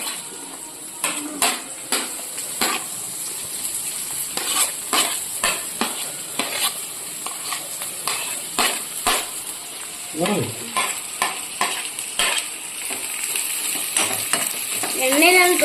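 Beef pieces frying in oil with added ingredients, a constant bright sizzle under repeated clattering scrapes of a metal spoon against the pan, close and fairly loud, with rhythmic stirring strokes throughout.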